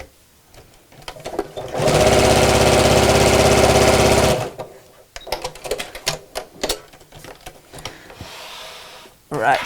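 A sewing machine runs in one steady burst of rapid stitching, sewing fabric for a drawstring beach bag within the seam allowance. Quieter clicks and handling noises follow, with a voice talking nearby.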